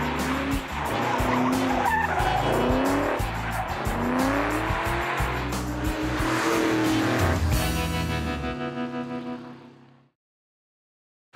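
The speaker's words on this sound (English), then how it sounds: "Come on, I'll let you do reverse 180s." A 2004 Mustang GT engine roars and revs hard as tires squeal and skid loudly through a long reverse 180 spin, then the noise cuts off abruptly into silence.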